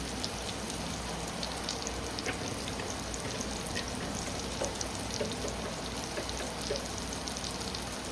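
Pointed gourd and soybean fry in oil in a pan, producing a steady, even sizzle that crackles lightly and continuously with no voices.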